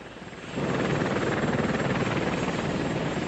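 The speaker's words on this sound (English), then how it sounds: "8 Apache helicopters laden with Hellfire missiles took off towards Iraq." Apache helicopters' rotors thump in with a steady, rapid chop after a brief quiet start, loud and close, the engine drone continuing throughout.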